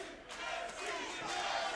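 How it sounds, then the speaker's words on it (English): A boxing crowd roars and cheers for veteran heavyweight Jesse Ferguson during his fight with Bobby Harris, a steady, loud wash of many voices that swells slightly and holds. "Crowd getting behind Jesse Ferguson right now"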